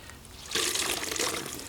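Water pours from a tap into an empty bucket for mixing grout, a steady splashing gush that starts abruptly partway through and continues close by.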